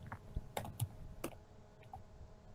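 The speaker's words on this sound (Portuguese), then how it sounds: "Pode apertar Enter." A few faint, scattered clicks from a computer keyboard, with one sharper key press standing out in a quiet room.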